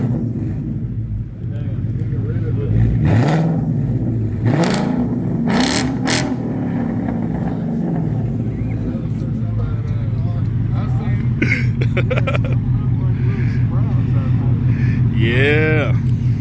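A 2024 S650 Mustang GT with an aftermarket exhaust, started remotely by key fob, fires up with a loud burst and settles into a steady, rumbling idle with a few throttle blips, close to the microphone.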